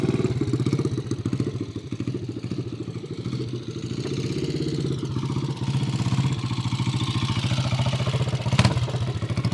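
A 1970 Triumph TR25W Trophy 250 single-cylinder motorcycle idles with an open header, a close, steady and slightly uneven chugging putter with mechanical clatter and a short rev blip near the end. No one speaks.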